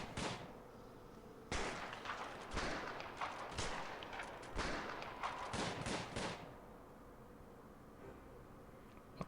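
Gunfire in the prison-management video game Prison Architect: a string of sharp broadband shots in uneven bursts, several close together, loud against a low background, then fading to quiet.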